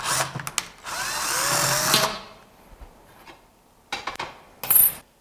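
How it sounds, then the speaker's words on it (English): A power drill bores a hole through a small piece of metal held over a bin. The drill gives a short, loud whining run, then goes quiet, followed by scattered clinks and a brief metallic rattle. "I'll drill the bottom hole out on this bit of metal here so the bolt can go through it"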